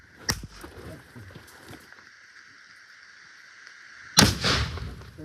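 A grenade blast during military combat training, two sharp loud reports a few seconds apart, the second heavier with a rumbling tail, heard outdoors over a steady background drone.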